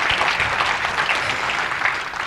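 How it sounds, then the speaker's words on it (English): Audience at a leadership forum building into a clap that quickly becomes a dense, steady round of applause across the room, fairly loud and sustained for the whole short stretch. "I want you to start a slow clap."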